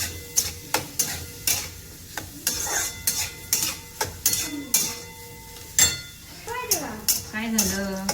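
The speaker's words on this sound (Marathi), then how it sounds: "कांदा व्यवस्थित असा भाजून घेऊया." Onion sizzles and fries in a pan while a utensil stirs and scrapes in repeated rhythmic strokes, with occasional clinks of metal against the pan, close and moderately loud.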